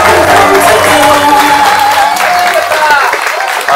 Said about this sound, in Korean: 큰 박수로 우리 천만님 모시겠습니다.